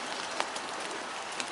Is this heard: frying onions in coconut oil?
no